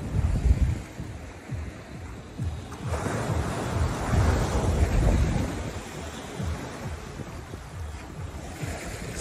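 Ocean surf breaking on a beach with gusty wind buffeting the microphone, waves rolling in one after another and swelling loud near the middle before easing, steady rush throughout with no voices.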